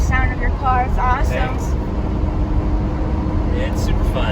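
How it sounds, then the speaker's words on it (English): Lamborghini engine rumbling steadily and loud, a low continuous roar filling the whole stretch, with a person talking over it early on and again near the end. "I love the sound of your car"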